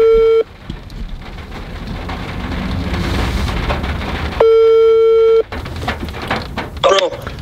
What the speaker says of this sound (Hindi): अब जरा ब्रो को फोन करते हैं और उसको बोलते हैं कि बाहर आए